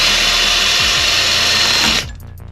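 A power drill with a small bit whines steadily while boring a tiny hole, then cuts off abruptly near the end, leaving a brief quieter tail.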